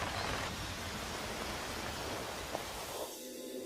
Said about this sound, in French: Début avril, la saison sèche transforme vite en pluie torrentielle.